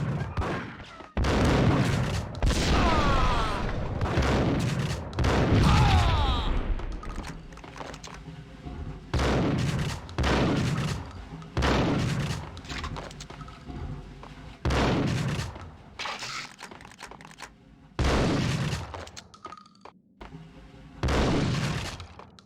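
Gunfire in the PlayStation 2 video game Max Payne: loud, sharp shots fired in repeated bursts and single cracks, with brief quieter gaps between volleys and occasional shattering.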